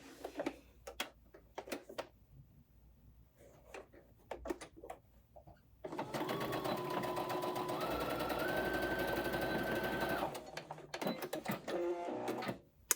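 A sewing machine stitches a side seam on a colorblock two-piece set, a steady close run of rapid stitching lasting about four seconds, framed by scattered taps and fabric handling before and after.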